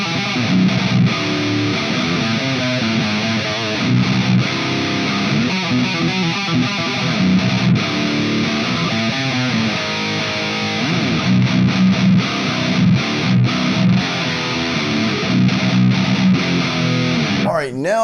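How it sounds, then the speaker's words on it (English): An electric guitar through a BIAS Amp 2 amp modeler, with no overdrive pedal, plays clean, undistorted notes and chords at a steady moderate level throughout, with no talking. "here's what the Bias Amp 2 amp sounds like with no overdrive in front of the amp"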